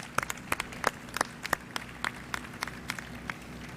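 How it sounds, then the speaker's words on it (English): Scattered hand claps from an audience at the grand opening of Buckhead Atlanta, a luxury shopping district, sounding as sparse, distinct claps over a low background hum, fairly quiet and thin rather than a full ovation. "Give them a big round of applause."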